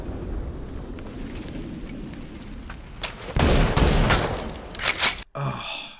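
In the anime Violet Evergarden, a loud burst of gunfire erupts as the Major gets shot, a sudden roaring blast after a quieter rumbling stretch, followed by a sharp cutoff and a trailing ringing tone.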